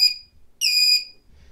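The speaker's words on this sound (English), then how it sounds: "we can re-alarm if we need to by pressing drill or alarm silence again" An EST2 fire alarm panel sounds its alarm: a loud, harsh electronic tone bursts briefly, pauses, then returns for about half a second before cutting off, with no voices over it.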